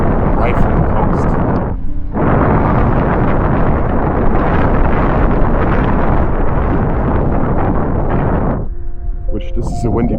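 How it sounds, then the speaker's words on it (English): Strong coastal wind gusts of around 30 mph buffet the microphone while riding an Inmotion V1 electric unicycle straight into the wind, a loud, continuous roaring rumble with one brief drop. "we got wind gusts of around 30 miles an hour, maybe 50 kilometers today here"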